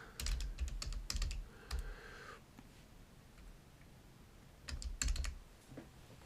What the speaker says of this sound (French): Je tape PowerShell.